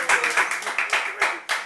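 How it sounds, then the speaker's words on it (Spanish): Audience applause for performing artists at a live music event, a burst of clapping with uneven peaks over under two seconds, fairly close and dense. "Fuerte aplauso para los artistas."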